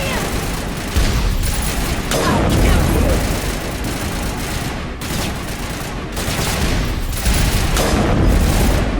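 Sustained turret gunfire in the video game Mass Effect, a dense continuous barrage of shots rolling on for the whole stretch, loud and busy, with no talk over it.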